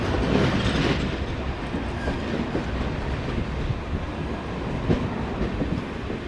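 Vivek Express passenger train running on rails on a long-distance Indian route, heard close with a loud continuous rumble and repeated clickety-clack of wheels over rail joints, a few sharper knocks standing out, no talking.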